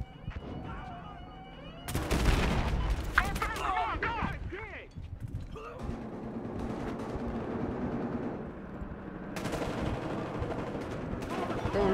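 Gunfire in the video game Battlefield Hardline: after a quieter stretch with a faint voice, dense bursts of automatic shots erupt and continue as sustained, rattling fire with heavy echoing booms.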